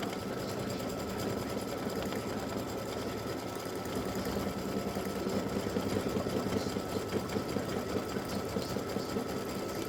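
Embroidery machine sewing a satin stitch around the edge of a freestanding lace butterfly earring design, a fast steady mechanical chatter of rapid needle strokes with a faint motor hum, continuous and close.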